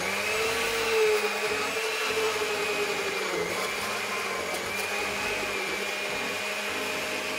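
A blender whirs steadily as it purees a fruit drink with a little added water, a loud, continuous motor hum with no pauses and no talking.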